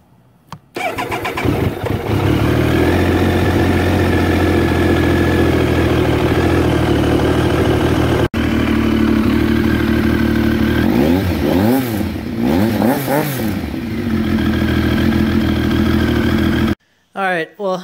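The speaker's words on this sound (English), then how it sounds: "now we'll see if it makes any difference warm starting" A warm car engine cranks briefly on a Scorpion Stinger lithium battery, catches, and settles into a loud, steady idle close by, with a couple of revs near the end before it cuts off.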